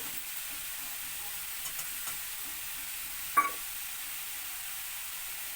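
Radish and fried potatoes, salted, stirred in a frying pan for a Bengali radish ghonto: a quiet, steady sizzle with a few soft scrapes and one sharp clink of the spoon partway through.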